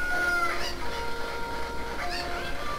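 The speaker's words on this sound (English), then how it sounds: "if you can't touch the chickens, the Cuccos, whatever you want to call them." Cucco chickens from the Zelda game Ocarina of Time cluck in short bursts over a steady background hum, moderately close and with no talking.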